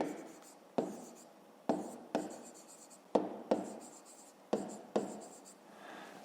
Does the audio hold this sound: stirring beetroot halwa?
no